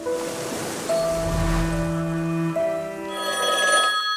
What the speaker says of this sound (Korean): 전화가 한 통 걸려와.